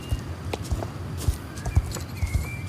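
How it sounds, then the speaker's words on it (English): Hooves of a horse clip-clop at a trot in the riding game Star Stable, a steady rhythm of close, distinct footfalls over quiet ambience. "After a while, she started trotting around, just being a goofy little horse"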